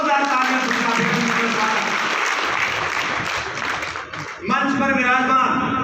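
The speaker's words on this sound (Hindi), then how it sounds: "जोरदार तालियां" An audience claps loudly and steadily at a Janmashtami gathering of a Yadav community group in Mahendragarh, with an amplified voice speaking over the clapping and a brief dip before it swells again.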